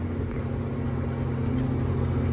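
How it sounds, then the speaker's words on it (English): Low, steady drone of a Case 340 tractor engine running while driving, a constant rumble heard from the seat with no speech. "Slowly losing my mind driving this tractor."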